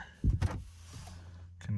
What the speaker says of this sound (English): can hear that it's activating a relay under the dash, but it's not actually unlocking the door